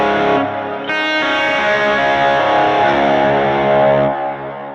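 An electric guitar with hot EMG active pickups plays through a Vox AC30 amplifier. Loud, distorted sustained chords ring close and thick, shifting once before fading out at the end, with no talking.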